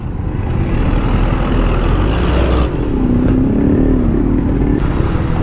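Steady road traffic noise in Kerala, India, with motorcycle and car engines humming and revving close by, continuous throughout with no talking.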